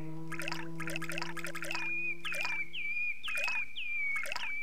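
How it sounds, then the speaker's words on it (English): Water effect in the video game Dark Fall: Lights Out, a series of bright, evenly spaced droplet plinks in a small garden scene, steady and fairly close, with a faint sustained tone underneath and no talk. "they're just testing the water effects that they have, I guess"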